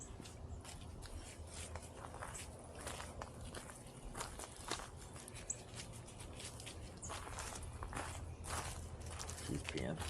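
Footsteps of someone walking dogs over icy ground after freezing rain and sleet, a steady crunching shuffle heard close throughout, with low background rumble.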